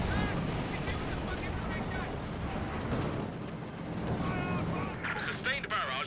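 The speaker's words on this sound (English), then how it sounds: "A sustained barrage is being fired as ordered." A sustained artillery barrage in Company of Heroes 2, with dense booming blasts and rumbling impacts filling the scene, loud and continuous, with a voice speaking near the end.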